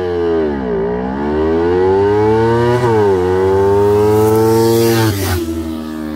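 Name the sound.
Kawasaki Ninja 300 and Ninja 400 motorcycles racing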